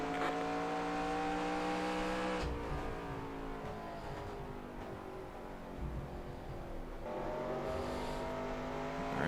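Race car in the NR2003 sim racing game on a qualifying lap at Richmond during a 1990 Busch Series career run, its engine droning steadily, dropping off as it lifts mid-lap and then climbing again, with no talking.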